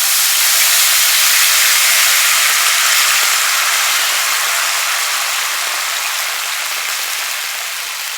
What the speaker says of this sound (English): Now I'm going to go ahead and add some seafood stock.